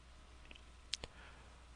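A couple of quick, faint computer mouse clicks from right-clicking a spinner in 3D modeling software, two sharp taps close together against a quiet room background.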